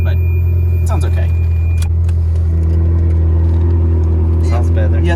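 A car engine idles with its exhaust valves open, giving a deep, steady rumble close by; someone talks over the running engine.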